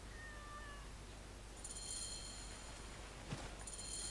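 A cat in the video game Assassin's Creed Origins meows faintly against a quiet ambient background, with a thin high cry early and soft tonal game sounds later, no voices present.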